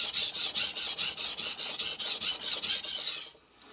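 A Victorinox R.H. Forschner chef knife is drawn across a whetstone to set a bevel, about fifteen quick, even rasping strokes in a steady rhythm, close and clear with no talking, then stopping.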